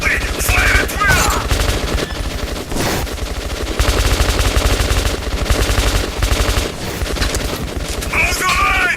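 Dense, rapid gunfire from the video game Metro Redux rattles almost continuously through a firefight, loud and close, with brief pauses and voices calling out over it.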